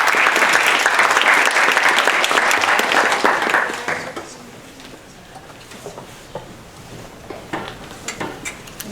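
Audience applause greets a seminar speaker at a university fisheries lecture series, loud and steady for about four seconds, then dropping to a few scattered claps and faint room noise.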